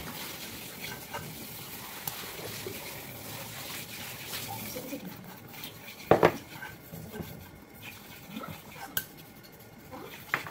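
Flour and a little water being stirred into batter for banana maruya, a soft scraping and clinking of utensil against bowl, with a few sharper knocks and faint voices in the background.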